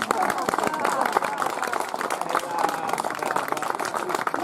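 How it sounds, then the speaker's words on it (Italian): An audience at a poetry reading claps in encouragement for an emotional reader, a dense run of individual hand claps with some crowd murmur, steady and fairly close. "Un applauso di incoraggiamento."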